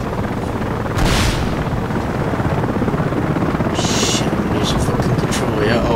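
An Apache-style attack helicopter flown in Battlefield Play4Free: a steady, loud rotor drone runs through the whole clip, with brief bursts of gunfire or impacts breaking over it.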